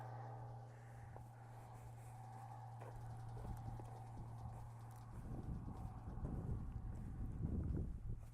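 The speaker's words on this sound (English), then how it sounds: "He sees the other horses that just ran up right now." Hooves of several horses clip-clopping near an untouched colt, growing louder and busier toward the end over steady wind noise and a low hum.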